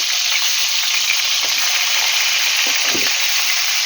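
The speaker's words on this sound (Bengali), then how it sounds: "তো দেখুন এবার আমি মাথাটা দিয়ে দেবো, দিয়ে ভেজে নেবো।" A katla fish head frying in hot oil, a loud, close, continuous hiss and crackle holding steady throughout, with a few faint low knocks underneath.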